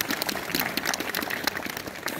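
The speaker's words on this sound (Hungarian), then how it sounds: "egy tapsot kérek neki" Outdoor crowd applause at a town square inauguration in Csíkajnád, honoring an honorary citizen: a steady patter of many hands clapping, moderately near and sustained.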